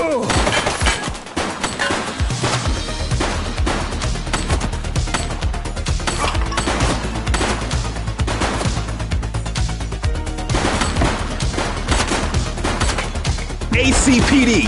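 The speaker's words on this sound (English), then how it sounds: "He's shooting!" Dense gunfire in the police video game The Precinct, loud and continuous with rapid overlapping shots and bursts layered over game sound and music.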